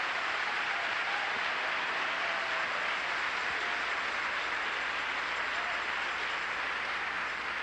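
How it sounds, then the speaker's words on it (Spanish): Church congregation applauding together, a steady dense wash of clapping held at even loudness throughout, with no pauses. "Un aplauso para el Señor."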